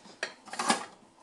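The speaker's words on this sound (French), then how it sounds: "petit tiroir à casserole" Pots and pans clatter in a kitchen drawer in a short burst of metallic knocks and rattles, close by and loud, over about a second.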